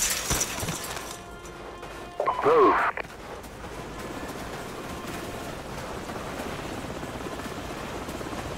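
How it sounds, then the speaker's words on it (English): Enemy helicopters in Call of Duty 4: Modern Warfare throb as a steady rotor drone across a battlefield, with a brief burst of crashing impacts and a short squeal early on before the continuous chopping hum takes over. "Enemy helicopters."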